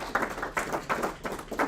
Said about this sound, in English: round of applause for the guys, please.